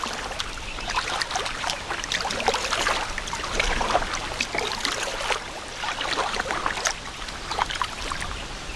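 Kayak paddle strokes splash and trickle steadily along the water between the derelict wrecks of Mallows Bay, a continuous close wash of dripping and swishing with no talk.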